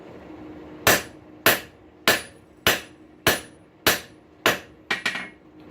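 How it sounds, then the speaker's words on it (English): Eight sharp metallic hammer strikes on an anvil while forging a rail spike fork, evenly spaced about half a second apart, ringing briefly, the last one doubling into a quick bounce. "why a smith taps his anvil"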